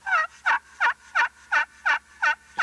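Deep, full turkey yelps drawn from the middle of a slate call, eight regular notes in a close, even cadence, heard alone.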